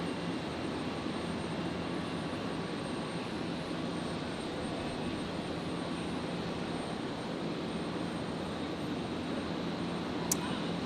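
An aircraft takes off from runway 01 right at Brisbane Airport, a steady, distant broadband engine roar that holds evenly throughout without talk.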